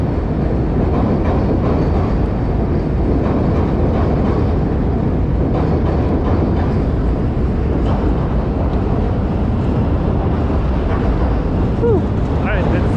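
A train rolls past on a moody autumn day in Chicago, a loud, steady rumble filling the whole stretch with continuous mechanical clatter and no clear breaks.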